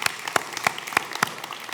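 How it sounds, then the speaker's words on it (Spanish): Applause for fathers at a Father's Day church gathering, with a few loud, distinct claps standing out at a steady rhythm over a softer background of clapping from the congregation. "Un fuerte aplauso para esos padres"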